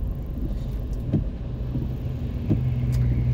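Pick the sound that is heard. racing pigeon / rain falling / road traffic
road traffic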